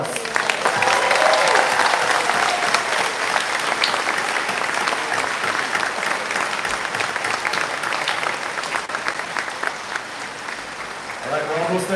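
A graduation ceremony crowd claps and cheers at length, dense continuous applause with scattered whoops that slowly thins toward the end, when a voice begins to speak.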